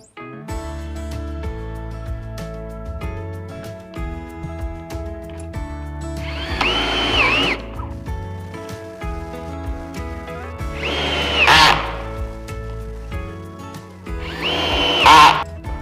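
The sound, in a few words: power drill pre-drilling holes in wood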